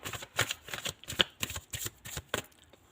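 Tarot cards shuffled by hand in a fast series of crisp riffling bursts and soft flicks, close and fairly quiet, with no talking.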